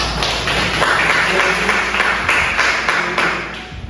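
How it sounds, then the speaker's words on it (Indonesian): Applause from a class group fills the classroom, a steady wash of many hands clapping for a few seconds without talk. "tepuk tangan untuk saudara Dimas"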